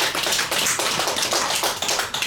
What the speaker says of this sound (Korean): 박수 한 쳐요.